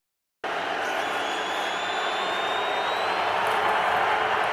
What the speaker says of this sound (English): Now the crowd trying to disrupt things.